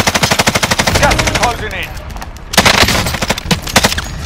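Rapid automatic gunfire in a video game shooter, loud and close, with repeated bursts of evenly spaced shots broken by a brief lull while a voice talks.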